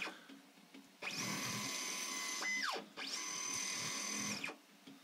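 A Mendel 3D printer's Y stage travels at almost 80 mm/s, giving two sustained whining stepper-motor runs of about one and a half seconds each, separated by a brief falling pitch sweep as it reverses.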